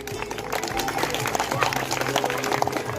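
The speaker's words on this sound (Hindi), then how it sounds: "तो मैं एक बार जोरदार 10th वालों के लिए जोरदार ताली" A crowd applauds the class 10 students at a farewell ceremony in a government secondary school in Ishwar Nagar, Keshoraipatan, Bundi, Rajasthan. The clapping is loud and continuous, mixed with voices and a low background hum.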